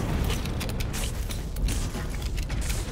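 An elevator in the Call of Duty: Infinite Warfare game unlocks and moves, giving off a steady, loud mechanical rumble with creaking and grinding that continues throughout without pause.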